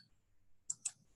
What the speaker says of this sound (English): we're going to click create